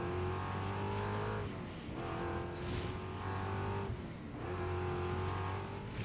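A noisy Fortnite glider sound effect rises and falls in three engine-like, revving surges, loud and continuous, with brief dips between the swells.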